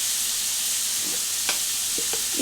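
Cluster beans frying with salt in a pan sizzle steadily and close, with a few light knocks of a stirring spoon against the pan.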